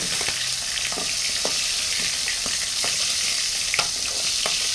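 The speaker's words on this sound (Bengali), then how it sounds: "মাথাটা আরেকটু ভাজবো" Fish head sizzling in hot oil in a pan, a constant close crackle broken by soft scraping and stirring knocks at irregular intervals, with no voices.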